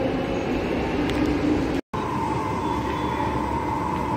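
A metro train at Kengeri metro station in Bangalore, producing a loud steady rumble with a constant hum, interrupted by a brief cut, then continuing as an even mechanical drone nearby.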